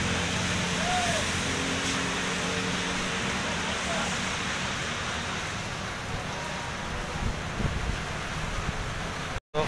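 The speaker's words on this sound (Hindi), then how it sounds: "बारिश भी बहुत तेज है।" Heavy rain pours steadily and loudly in a constant broadband hiss, with some wind buffeting the microphone, while stopped on a bike ride in a downpour.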